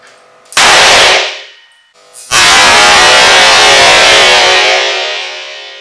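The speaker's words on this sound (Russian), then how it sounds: "Делаем пробный выстрел." Two loud gunshots from an Ekol Viper 2.5 signal revolver firing blank cartridges crack indoors, the second followed by a long, harsh ringing decay that slowly fades.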